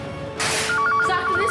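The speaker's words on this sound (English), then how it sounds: "I'm gonna answer that phone" A telephone rings indoors at a small hotel, a bright electronic trill pulsing in quick repeated bursts, close and clear after a brief rustle.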